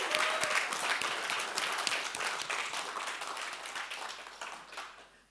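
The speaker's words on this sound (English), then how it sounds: "Give yourselves a huge round of applause." A roomful of people clapping after the final pitches of a Leaders in Innovation Fellowships event, brisk and dense at first, then gradually thinning and fading away.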